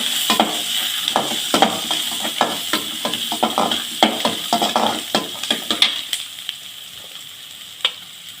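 Onion and garlic sautéing in a pan for spicy chutney, a steady close sizzle broken by repeated scraping stirs and light clinks of a spoon against the pan.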